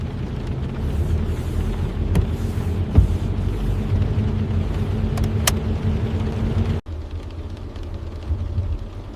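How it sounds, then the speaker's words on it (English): A car drives through busy city traffic, with a steady low road and engine rumble throughout, a few brief clicks and knocks, and a short dropout near the end before the drone resumes. "He drove smoothly through the busy city traffic."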